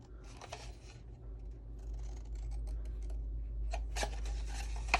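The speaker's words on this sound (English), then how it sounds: "let's go ahead and cut up to the score line" Scissors snip through very light craft paper up to score lines while making a mini embellishment box, with a series of quick, close cuts in short bursts and pauses between them.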